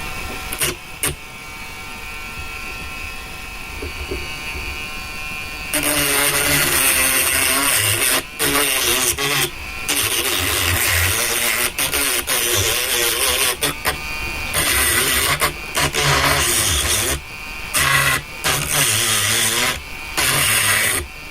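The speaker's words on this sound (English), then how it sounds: "Deburred that one. I'll deburr this one." A 3D printed air turbine part being deburred by hand: close, continuous rasping and scraping strokes with brief pauses between passes, with no talking.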